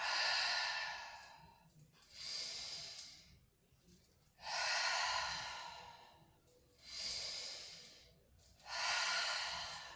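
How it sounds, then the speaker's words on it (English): Slow, deep breaths during a children's yoga exercise, with long audible exhales alternating with quieter inhales in a steady rhythm, close and without speech. "So breathe in and breathe out."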